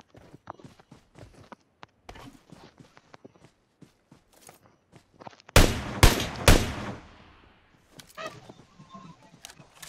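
Gunfire rings out in a shooting video game, with a cluster of sharp, loud shots in the middle standing out against scattered quieter clicks and taps before and after.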